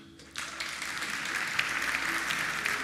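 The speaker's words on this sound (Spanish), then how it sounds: "dale un aplauso a Dios" Church congregation bursts into applause for God during a Spanish-language sermon, clapping starting abruptly after a brief quiet moment and continuing steadily, dense and even.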